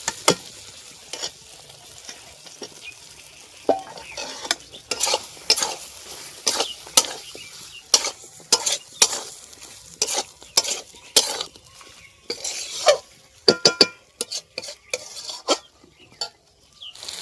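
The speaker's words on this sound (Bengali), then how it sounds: "এবারে এই সব সবজিগুলো দিয়ে দেব মশলাতে।" Mixed vegetables tossed into a fried spice masala for a vegetable lentil-dumpling curry, with repeated sharp spoon scrapes and clatters against the pan over a soft sizzle, the strokes growing busier and louder toward the end.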